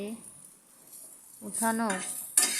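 Fried pointed gourd peels are lifted out of a frying pan, giving a faint sizzle and a soft scrape that ends in a sharp utensil clink, with a voice speaking partway through.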